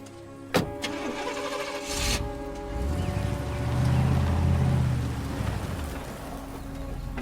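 A car engine cranks and starts after a door-like thump, then settles into a steady low idle that swells and holds close by, with no talking.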